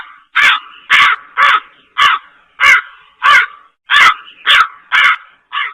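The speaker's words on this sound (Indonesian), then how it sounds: "Anak di dalam kamar mendengar suara burung gagak di halaman belakang." A crow caws in a backyard, about ten loud, harsh calls in a steady rhythm, each separated by short silences, with no other sounds around it.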